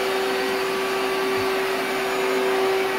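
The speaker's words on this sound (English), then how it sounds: "Oh, it doesn't want to go in the vacuum." Vacuum cleaner running continuously while sucking up cockroaches in an apartment, a loud, steady motor whine with a constant airflow rush close by and no voices.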